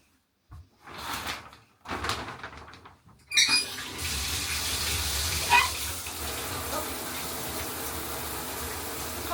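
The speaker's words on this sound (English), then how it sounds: "I'm gonna take a shower." Shower water starts running with a steady hiss after a few knocks and door-like bumps. The spray stays even and close for several seconds, with no voices.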